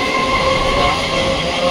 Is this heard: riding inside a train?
yes